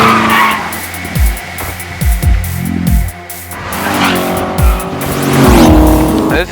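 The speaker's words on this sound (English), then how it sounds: "while we enjoy the sights and sounds of Ferraris and Lamborghinis racing all around us" Ferraris and Lamborghinis racing on a Las Vegas racetrack: loud engines rev up and down through repeated gear changes, with squealing tires and cars sweeping past close by.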